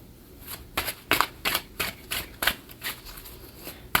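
Tarot cards being shuffled by hand, a series of crisp riffling bursts roughly every half second, close and fairly quiet, with no talking.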